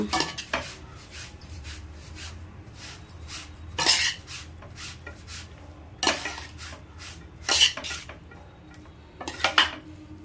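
Cooked rice being stirred and mixed in a metal pot for a breakfast dish, with repeated scraping clinks of a spoon against the pot and a few sharper knocks, close and fairly quiet, with no talking.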